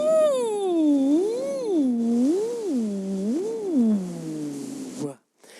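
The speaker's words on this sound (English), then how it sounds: "you let your cheeks puff up really big like a trumpet player by blowing air out of your mouth" A singer with puffed cheeks like a trumpet player voices a sustained 'UH' through barely parted lips, sliding the pitch up and down in smooth waves for about five seconds, close and alone, then stopping abruptly.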